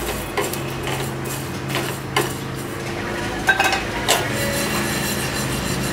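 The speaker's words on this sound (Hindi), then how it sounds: "हम 1 चम्मच सूखा धनिया, साबुत धनिया, इसको भी डाल करके हम हल्का सा रोस्ट करेंगे" Whole coriander seeds and black cumin dry roasting in a pan, with a steady light rustle and several sharp clinks and scrapes of a spoon stirring. Close and continuous, with no talking.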